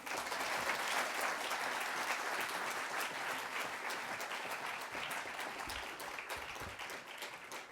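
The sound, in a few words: audience applause at awards ceremony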